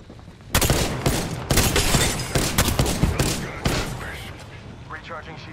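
Rapid gunfire bursts from an Apex Legends firefight, loud and close, with dense repeated shots through most of the stretch before tapering off near the end, and a voice speaking over the action.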